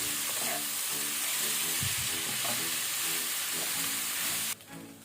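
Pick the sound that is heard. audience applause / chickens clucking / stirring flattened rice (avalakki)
stirring flattened rice (avalakki)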